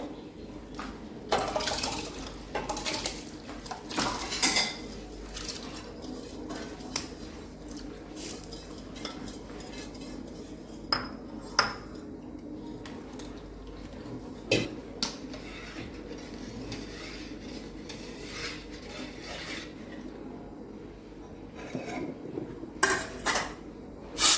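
Pots, lids and utensils clank and scrape at irregular intervals as rice is put on to cook in a home kitchen, sharp metallic knocks over a soft background of handling and running water.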